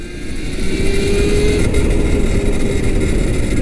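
Loud, steady motor whine and rushing road noise as an electric cafe racer motorcycle accelerates at full throttle, the pitch gradually rising with wind buffeting throughout.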